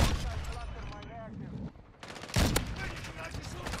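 Intervention sniper rifle shots with hit markers crack out in Modern Warfare 2, with loud blasts at the start and a sharp report midway over dense game noise.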